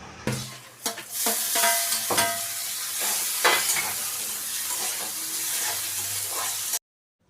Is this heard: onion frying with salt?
yes